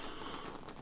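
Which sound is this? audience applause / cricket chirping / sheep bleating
cricket chirping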